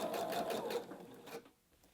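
A short run of a sewing machine stitching an appliqué with netting, its rapid needle rhythm close and clear before it stops and fades to quiet.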